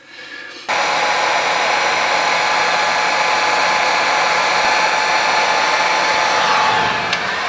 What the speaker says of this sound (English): and then hit it with the heat gun.